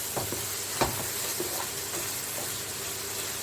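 Chicken coated in masala frying in a pan for a green chicken with spinach, a continuous close sizzle with a few sharp scrapes and clanks of stirring, no one speaking.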